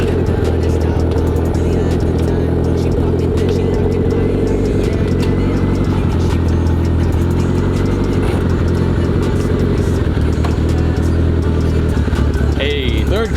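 A car on its first drive of the season, the engine humming steadily and loudly from close range for the whole stretch with a continuous low drone and faint whine.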